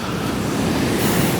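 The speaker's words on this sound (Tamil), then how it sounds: "கடல் அடிக்கிற அடியாக பார்த்தீங்களா?" Sea waves pound the beach in a continuous broad roar, loud and unbroken, with no talking.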